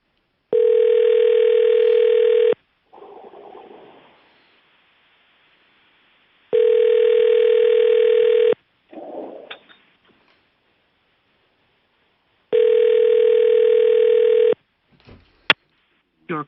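Telephone ringback tone heard while calling someone: three long steady tone bursts about two seconds each, separated by pauses with brief muffled sounds between them, loud and close.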